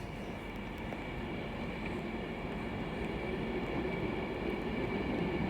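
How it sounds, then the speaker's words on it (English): An Avanti West Coast class 390 Pendolino pulls into Crewe on the 12:28 Manchester Piccadilly to London Euston service, a steady, fairly faint low rumble that holds throughout with no voices. "Now arriving is the 12:28 Avanti West Coast service from Manchester Piccadilly to London Euston, being worked by a class 390 Pendolino."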